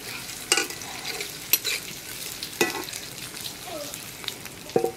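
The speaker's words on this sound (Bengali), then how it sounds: "এবার এটিকে মাঝারি আছে খুব ভালোভাবে ভেজে নেব।" Red capsicum and onion petals fry in a pan for a village-style veg Manchurian, a soft sizzle with intermittent spatula stirs and scrapes; fairly quiet, no talking.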